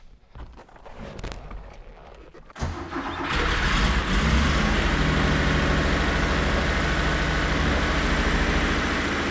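A Porsche 911 E parked for 35 years cranks and fires, its air-cooled flat-six catching after brief cranking and settling into a loud, steady, slightly rough idle up close.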